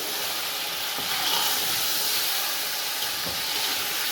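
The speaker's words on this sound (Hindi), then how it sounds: "और ये चिकन डाल रहे हैं हम। चिकन को थोड़ी देर हम भूनेंगे।" Chicken pieces frying in garlic-ginger paste for chicken yakhni pulao make a continuous, even hiss of sizzling and steam, close and fairly loud, with no voices.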